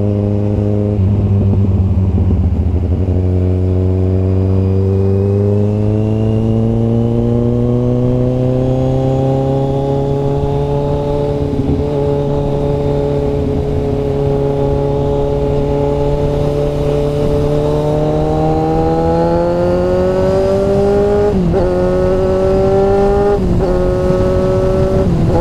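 A Kawasaki Z1000 motorcycle cruises along an expressway, its engine a loud steady drone that slowly rises in pitch as it gains speed, with brief gear-change dips near the end and rushing wind throughout.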